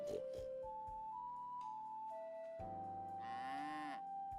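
Cattle on a farm in the game Pumpkin Days moo several times over a light, melodic background tune, with one long, loud moo near the end.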